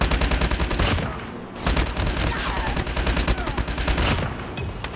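The Hbra3 Swarm gun fires nonstop in a video game, a loud, fast rattle of rapid shots with one brief pause before the stream resumes.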